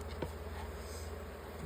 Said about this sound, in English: these are all robbing bees